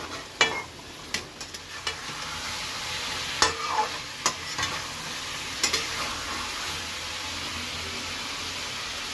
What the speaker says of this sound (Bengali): তো মশলাটা ভুনে নিই